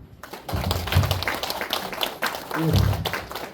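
An audience at a residents' briefing for an apartment complex claps for the council chairman, a lively burst of applause with some heavier thumps, mixed with faint background voices.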